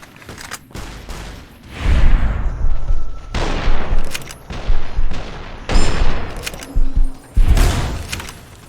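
Bursts of gunfire in the Fallout: New Vegas video game, with repeated loud volleys and rapid shots coming in clusters over several seconds, close and dominant.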